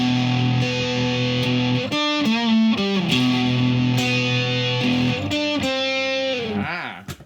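Three-string cigar box guitar through a distortion effect, playing a looped Catfish Blues riff with sliding notes and short repeated phrases, close and steady.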